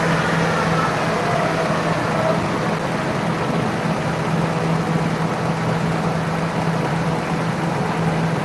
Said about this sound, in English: It's a beautiful sounding little engine.